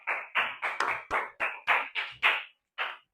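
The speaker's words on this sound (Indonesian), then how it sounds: "Tepuk tangan dong." Children in a classroom clap in a quick, uneven rhythm, about ten loud bursts close together that stop briefly before one last clap, with no talking.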